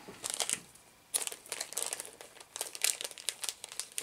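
Plastic packaging crinkles and rustles while car parts are unpacked, close and fairly quiet, in irregular bursts with a brief lull before the handling picks up again.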